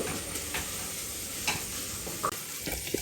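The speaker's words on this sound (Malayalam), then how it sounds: "ഇതാ നെയ്യിൽ ഇടുന്ന ഉള്ളി ക്യാരറ്റ് പെരിഞ്ചീരകം നമ്മൾ പട്ട ഗ്രാമ്പ് ഏലക്ക ഒക്കെ നെയ്യിൽ കിടന്ന് ഇങ്ങനെ വയറ്റുമ്പോൾ" Onion, carrot, fennel seeds, cinnamon, cloves and cardamom frying in hot ghee in a home kitchen, giving a steady close sizzle with a few light stirring clicks and scrapes.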